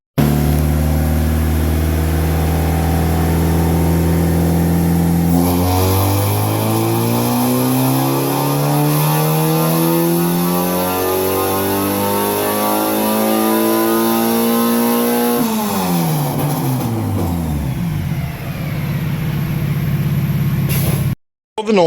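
A 2.4-litre swapped Dodge Neon with an AMM intake manifold, TTI long-tube headers and exhaust runs on a dyno, idling loudly before a long sustained wide-open pull climbs steadily in pitch, then winds back down.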